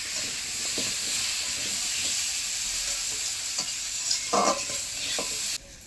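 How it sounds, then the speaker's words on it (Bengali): Potatoes fry in a wok with turmeric, giving a steady close sizzle broken by spatula scrapes and stirring clatters, with no one speaking. "আলু তো ভাজা হচ্ছে, এই সময় 1 চামচের মতো হলুদের গুঁড়ো দেবো।"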